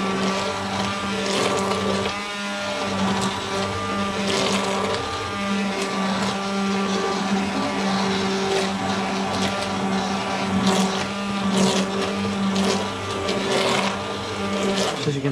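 A blender whirs continuously as it purees hot spinach for palak paneer, a loud, steady motor whine with brief rattling surges as the blades hit chunks, running alone for about fifteen seconds.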